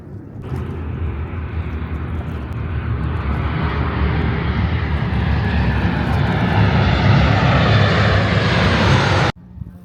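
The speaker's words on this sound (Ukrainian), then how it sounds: "Там летить вже літачок." An airplane flying near an airport runway on Corfu, a broad steady engine roar that swells slowly louder over several seconds and then cuts off abruptly, with no talk.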